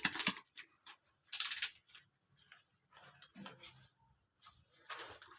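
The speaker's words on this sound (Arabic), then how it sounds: "غادي نخلط هذا الخليط" A batter being mixed by hand in a bowl, with scattered scraping and clinking bursts separated by short pauses, fairly faint and close.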